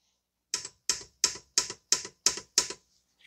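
Seven sharp, evenly spaced ratcheting clicks come from a wrench being worked on wheel nuts, close and crisp, with silence between them.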